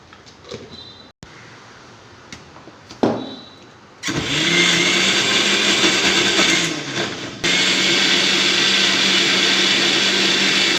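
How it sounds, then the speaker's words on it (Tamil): A mixer grinder whirs into a loud, steady grinding hum after a few short bumps and clicks, running continuously close by as it grinds dried chillies, coconut, cumin and coriander powder. "மிளகா வத்தல் தேங்காய் சீரகம் அரைச்சிருக்கேன் அதில் இப்போ மல்லிப்பொடி போட்டு அரைச்சிருக்கேன்"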